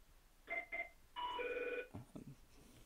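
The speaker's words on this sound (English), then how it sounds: "well, there's a ring we don't hear too often. That's the studio phone." A studio telephone rings in two short electronic trills followed by a longer tonal burst, fairly faint and alone, with some clattering handling noises afterward.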